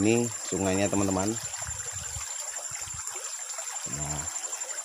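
A clear, natural forest river in Samarinda flows with a constant soft rush of water, while someone talks nearby over it at the start and again briefly later.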